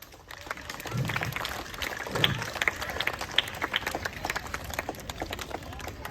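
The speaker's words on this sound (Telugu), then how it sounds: "వాళ్ళందరికీ బిగ్ రౌండ్ ఆఫ్ అప్లాజ్" An audience at a school event applauds for several seconds. The clapping is moderately loud and a little distant, and a few voices can be heard in the crowd.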